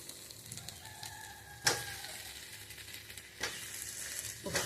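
Potatoes dropped into a small amount of hot oil, a faint steady sizzle with a few sharp clinks and pops of pieces going in one by one.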